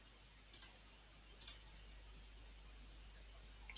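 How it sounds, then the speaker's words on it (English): Two distinct computer mouse clicks, about a second apart, sharp and close against a quiet background with a low steady hum, and a faint pair of ticks at the very end; no one speaks. "Okay, so I will click over here."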